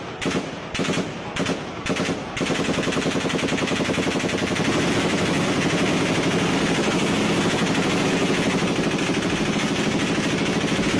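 Rapid bursts of gunfire, a few separate shots at first and then a sustained, loud, continuous volley like automatic weapons firing without a break.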